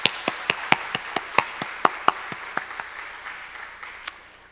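Scattered applause from a church congregation at an early-morning revival service: individual claps ring out distinctly over a soft crowd murmur, starting brisk and tapering to occasional claps as it dies away.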